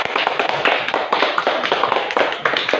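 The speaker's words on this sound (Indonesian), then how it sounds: "tepuk tangan semuanya." A classroom group claps hands together, quick uneven patters of many palms filling a few seconds, close and lively after a student team's parallel electric circuit demonstration.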